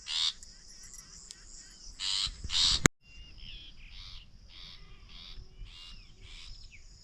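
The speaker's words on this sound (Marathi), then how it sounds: "त्या पक्ष्यांचा कालवा उडलाय." Agitated birds calling in alarm outdoors, harsh loud chattering bursts at first, then a thinner, fainter run of repeated chirps after a brief cut.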